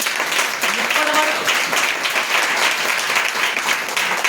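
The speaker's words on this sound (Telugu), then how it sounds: "గట్టిగా చప్పట్లు కొట్టండి." A congregation at a church service claps and applauds loudly and steadily throughout, a dense, unbroken wash of hands with faint voices mixed in.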